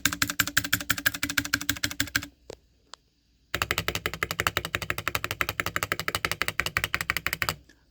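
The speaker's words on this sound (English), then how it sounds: "let me just do a little sound test. First of all, I want to compare the space bars," Typing on a Polar 65 mechanical keyboard, a rapid run of crisp keystrokes and space bar presses with no rattle, broken by a near-silent pause with two isolated clicks before the steady close, even clacking resumes.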